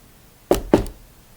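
A voice-free imitation of loud knocking on a fridge: two sharp, close knocks about a quarter second apart, then quiet.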